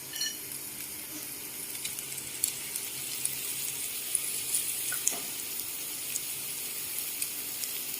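Shrimp, meat and vegetables sizzle steadily on a hot mookata grill pan, a continuous frying hiss with small pops and crackles throughout, close and moderately loud, no talking.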